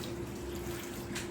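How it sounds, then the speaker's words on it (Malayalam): Water is poured steadily into a cooking pot while making kappa erissery, a Kerala tapioca curry, with a faint, continuous splash and no talk. "ഇതിനകത്തോട്ട് ആവശ്യത്തിന് വെള്ളം ഒഴിച്ചു കൊടുക്കാം"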